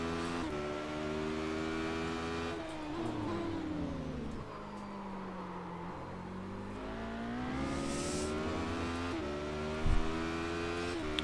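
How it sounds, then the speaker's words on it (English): A Radical SR8 open-cockpit race car in iRacing, powered by two motorbike engines, drones steadily at high revs with rising and falling pitch through gear changes, loud and continuous, with a brief sharp burst near the end and no speech. "Two motorbike engines strapped together in the back of it to push you around."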